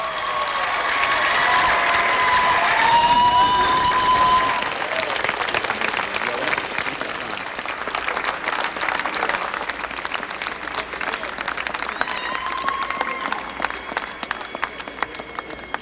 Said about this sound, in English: Please give him a round of applause as he comes forward.